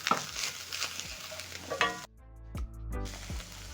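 Carrots with garlic and onions sizzle and crackle in a pot for a one-pot pasta and minced beef dish, with a steady frying hiss under close stirring scrapes and clicks.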